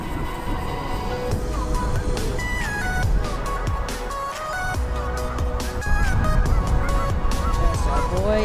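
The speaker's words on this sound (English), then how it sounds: "Hey Apollo, how do you feel about ducks?" Waterfowl honking and calling nearby in a loud, busy chorus of overlapping calls, with some traffic-like rumble in the background.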